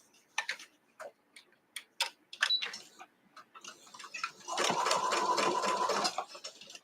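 A home sewing machine runs back over a seam on a fabric-scrap project: a sustained, close whirring stitch run comes after a series of scattered ticks and clicks as the fabric is positioned.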